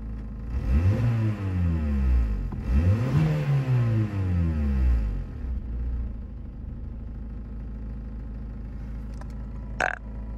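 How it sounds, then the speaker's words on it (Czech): Škoda Fabia 1.4 MPI petrol engine revved twice in strong rising and falling sweeps, then settling to a steady close idle, with a brief click near the end. "Dá to krásně do otáček"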